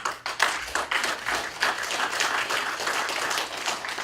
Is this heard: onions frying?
no